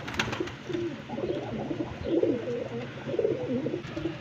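A pigeon coos softly in a few low, throaty phrases, repeated over faint background noise.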